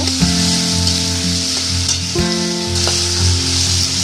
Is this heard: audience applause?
no